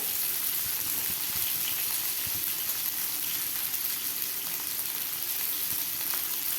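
Food frying slowly in a pan on very low heat: a soft, even sizzling hiss that stays constant and fairly quiet throughout, with no talking.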